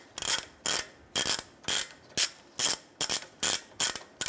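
A ratchet removes stud nuts from the rear catalytic converter flange on a 2009-2015 Honda Pilot. About ten sharp clicking bursts come in a steady back-and-forth rhythm, close and clear.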